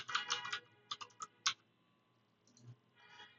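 Typing on a computer keyboard, a quick close cluster of crisp key clicks followed by scattered single taps and a brief final burst, quiet in an otherwise still room.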